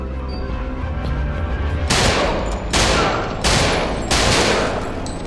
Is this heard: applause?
no